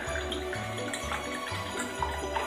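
Orange squash cordial poured into an empty glass, a steady liquid stream running throughout at close range with no voices.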